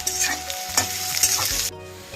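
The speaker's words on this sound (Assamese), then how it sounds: "পিঁয়াজৰ লগতে দি পিঁয়াজৰ লগতে ভাজি ল'ম কঁঠালৰ গুটিখিনি" Raw jackfruit seeds fry with onions in a pan, a close, bright sizzle broken by scraping stirs, then the hiss drops away abruptly near the end.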